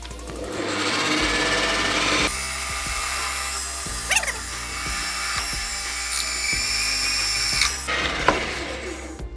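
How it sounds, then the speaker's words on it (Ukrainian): Scheppach DP55 drill press boring into metal with a 16 mm hole saw, a steady close-up whine and grinding that lasts throughout, with a louder cutting band from the middle on and a few brief bites and clunks. "Так, ну і спробуємо коронкою по металу діаметром 16."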